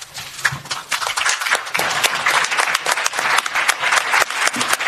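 Scattered applause breaks out at a press conference on Venezuela with European Parliament members, a mix of sharp individual claps from a room of people, steady for a few seconds.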